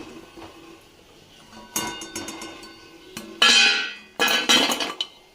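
Crispy fried wheat-flour namak pare crunch in a few sharp, close bursts, each a brittle crackle with clinks, separated by quiet gaps and no talking.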